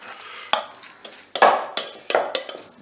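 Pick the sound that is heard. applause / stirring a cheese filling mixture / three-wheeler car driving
stirring a cheese filling mixture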